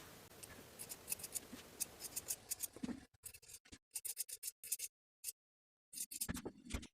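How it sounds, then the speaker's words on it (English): Sharp scissor snips cutting into the seam allowances of a sewn fabric garment, a run of quick close clicks with brief pauses between bursts, near and clear with no talk. "it helps to clip the seam allowances by half"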